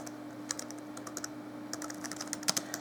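Keys clatter on a Dell Latitude E6400 laptop keyboard in uneven bursts of light clicks, close and fairly quiet, with a steady low hum underneath and no voices.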